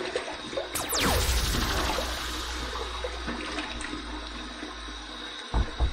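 Water runs steadily from a tap at a bathroom sink while the face is wet before a shave, with a constant splashing rush close by and brief clunks near the end.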